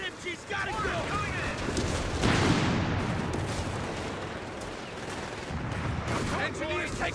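Dense battle din from Company of Heroes 3, with sustained machine gun bursts and artillery fire rumbling continuously, peaking sharply around the middle, under shouted voices.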